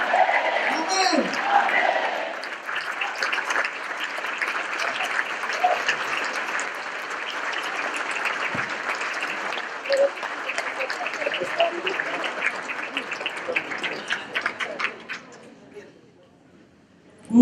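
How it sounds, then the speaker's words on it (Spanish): A Hispanic Catholic Charismatic Renewal congregation applauds with strong, sustained clapping and some cheering, fading out near the end before a voice begins. "Un fuerte aplauso más al Señor por esta gran bendición, hermanos."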